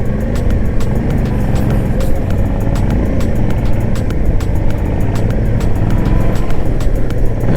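A motorcycle of about 60 to 65 horsepower with six gears drones steadily at close range as it is ridden, with loud continuous engine noise and rushing wind and no pauses.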